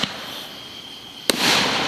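Fireworks at a summer display: one sharp burst cracks out, followed by a broad crackling hiss and a steady wash of distant noise.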